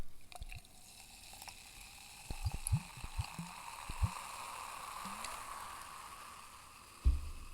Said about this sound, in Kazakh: Коланың дауысы естіліп тұр ма?